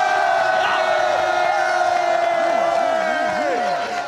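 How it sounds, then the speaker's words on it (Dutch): Crowd cheering and whooping after a Dutch battle-rap round, loud sustained voices with rising and falling shouts, little distinct clapping. "Geef ze een warm applaus."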